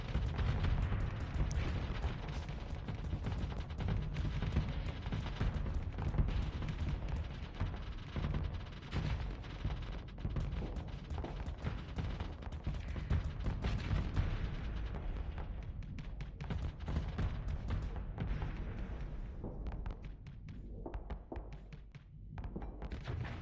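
In the space strategy game Starsector, a fleet battle erupts with dense, continuous missile launches, explosions and heavy weapons fire, loud and layered throughout, with no speech.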